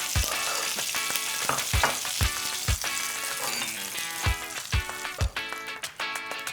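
Salmon fillets fry in a hot pan with a continuous, close crackling sizzle, broken by sharper spits and pops, over a musical background.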